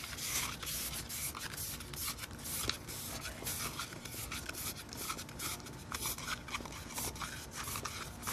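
Hands rub a K20 engine piston in quick repeated strokes, producing a soft, faint, rhythmic scuffing and scraping in a quiet space.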